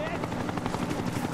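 A helicopter in the video game Final Fantasy VII Rebirth makes a steady, pulsing rotor chop, loud and constant for the whole brief moment, with a voice talking over it.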